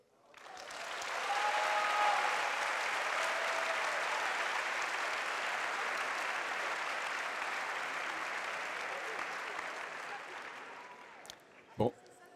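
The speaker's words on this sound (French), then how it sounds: "vous nous le direz avec vos applaudissements" A large audience at a public lecture bursts into sustained applause, rising quickly to a full, dense roar of clapping that holds for about ten seconds before fading, ending with a sharp knock.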